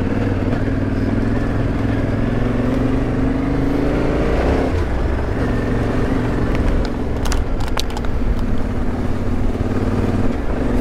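An adventure motorcycle engine chugs steadily in third gear on a riding route through Kent, a loud, close, low drone. The pitch dips briefly around the middle, then settles back, with wind noise throughout.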